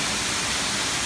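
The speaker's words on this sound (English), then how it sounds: "can you guys hear the waterfall sound?" A very small waterfall in a slippery, misty spot gives off a steady, even rush of broadband water noise, close and continuous with no voices over it.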